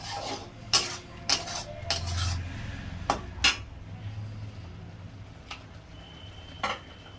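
A spice paste with salt is worked in a pan for a fish curry, giving scattered metallic clinks and scrapes of a spoon against cookware at close range, with a low, faint sizzle underneath and no talking.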